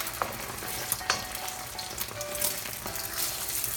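Beaten egg and a small amount of rice stir-fried together for simple fried rice, a steady close crackling sizzle with occasional spatula scrapes and taps, no voices.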